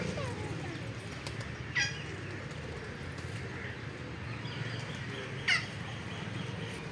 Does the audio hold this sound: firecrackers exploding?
no